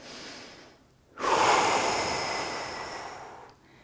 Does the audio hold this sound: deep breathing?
yes